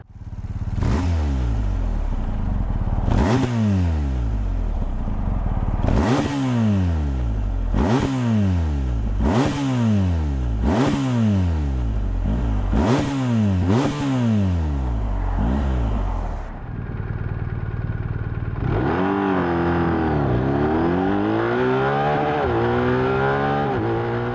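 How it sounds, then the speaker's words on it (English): A BMW R1250R motorcycle with an SP Engineering aftermarket exhaust accelerates hard through a series of gears, each shift marked by a drop and climbing rev, then idles briefly and revs at a standstill, loud and close. "Plan is to give you a little run through the gears and maybe rev it up at a standstill."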